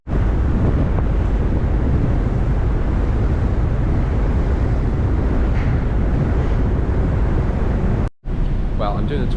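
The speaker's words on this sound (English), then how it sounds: "because it's very, very windy and you will not be able to hear a word that I say" Strong, gusty wind roars and buffets the microphone outdoors for nearly the whole stretch, a loud broadband rumble with one brief dropout near the end.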